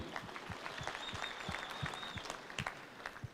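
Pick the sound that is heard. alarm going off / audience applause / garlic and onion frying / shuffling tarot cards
audience applause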